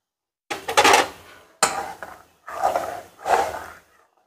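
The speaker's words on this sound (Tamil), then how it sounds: "இப்போ வந்து கையெடுக்காமே கிண்டணும்" A spoon stirring black rice (kavuni arisi) kanji in a cooking pot makes four separate scraping, clattering strokes, close and fairly loud, with short pauses between them and no talk.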